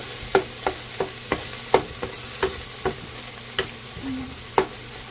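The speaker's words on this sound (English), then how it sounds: "you're going to add your tomato paste and ketchup in the middle. And you're gonna allow this to cook" Tomato paste and ketchup cooking in a pan, heard as a run of sharp, evenly spaced stirring taps and scrapes over a faint steady sizzle, close and moderately loud with no voices.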